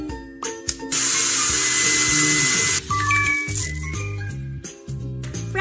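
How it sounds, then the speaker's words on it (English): A cartoon hair dryer blows in a pony hair salon kids' game, a bright, steady whooshing hiss lasting about two seconds over a bouncy looping game tune, followed by chimes and jingles. "Now let's use a hair dryer."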